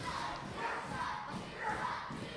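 A wrestling crowd chants rhythmically for Kenny Sutra during a match against Johnny Wisdom, a rolling, pulsing roar of many voices rising and falling in waves, fairly distant and muffled.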